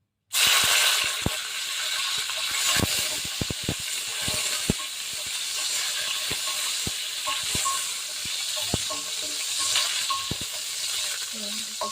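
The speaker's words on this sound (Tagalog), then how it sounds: "Fry natin yung red chili." Red chilies fry in a hot pan with a continuous hissing sizzle that starts abruptly, dotted with scattered clicks and taps of a utensil, close and steady throughout.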